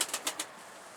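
Four quick bursts of wing flapping in the first half second, then quiet air.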